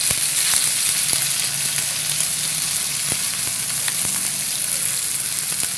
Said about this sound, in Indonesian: kita panaskan minyak ya. Ini untuk numis bumbunya dulu ya